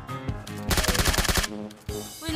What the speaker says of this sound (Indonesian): Aku ditembakin pakai M16 dari arah lain